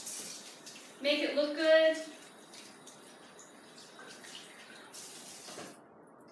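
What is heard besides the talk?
running tap water while rinsing a plucked chicken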